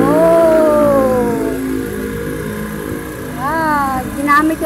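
An old motorcycle engine runs and revs in rising and falling sweeps, close by and fairly loud, during a night ride through town.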